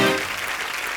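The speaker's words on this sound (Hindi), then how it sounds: "जोरदार तालियां हो जाए रवीना के लिए" Audience applause on a Hindi comedy talk-show set for the guest Raveena, a dense burst of clapping that starts loud and eases slightly over one second, with no talk.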